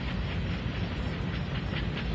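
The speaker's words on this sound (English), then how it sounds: "the train didn't get quiet as it went by" A train rolls past close by, a loud, steady rumble and roar with faint rhythmic clatter running unbroken throughout, no voices.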